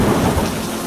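A cartoon storm scene has a deep rumble of thunder over steady heavy rain. The sound is loud and continuous through the short moment, with no voices.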